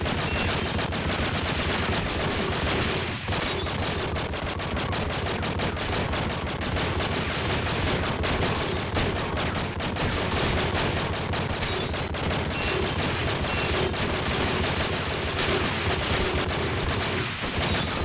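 Continuous, loud gunfire in the video game True Crime: Streets of LA, with rapid overlapping shots and occasional heavier booms sustained without a break throughout.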